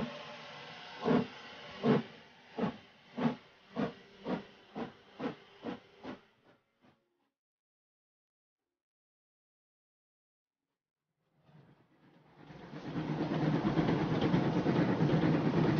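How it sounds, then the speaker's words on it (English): A steam train puffs in strong rhythmic chuffs that slow and fade out, then after a pause a loud, continuous hiss of escaping steam rises and holds steady. "Fogg, Mrs. Aouda, Passepartout and Fix get on the train that evening"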